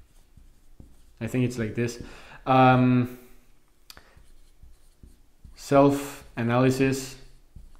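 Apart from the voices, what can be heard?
writing notes by hand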